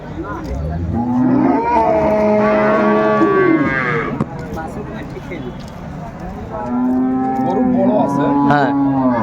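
Several moos come from cattle at the Ambari livestock market in Dinajpur, with a long call early, then a pause, then another drawn-out moo. Voices and crowd noise run underneath.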